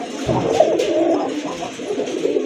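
Rajgolla pigeons coo softly and continuously at close range, their low throaty calls overlapping in a gentle, steady murmur.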